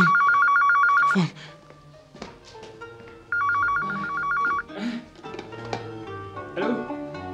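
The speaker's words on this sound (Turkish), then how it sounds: "Telefon. Telefon." A telephone rings in two electronic trilling bursts in a radio drama, with voices and other movement sounds between and after the rings.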